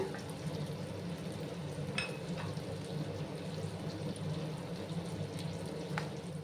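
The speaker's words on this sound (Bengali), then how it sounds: "একটু লাল লাল করে কিন্তু ফুলকপিগুলোকেও ভেজে নিতে হবে।" Cauliflower florets fry in a pan, a quiet, low continuous sizzle with a few faint clinks and scrapes from stirring.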